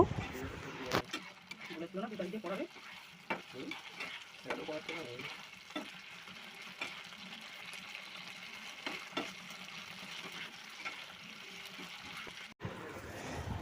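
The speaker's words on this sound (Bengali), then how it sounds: "একে একে চিকেন পিসগুলো দিয়ে দিলাম এরপরে ব্রাউন করে ভেজে নেব" Chicken pieces fry in a pan for butter garlic chicken, a quiet steady sizzle with occasional clinks as pieces are added, under intermittent talk.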